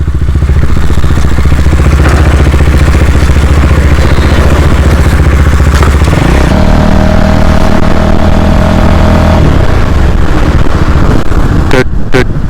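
A Husqvarna Vitpilen motorcycle idles in neutral, giving off a loud, steady low engine rumble. Partway through the idle settles into a smoother, more even tone, with a few sharp knocks near the end.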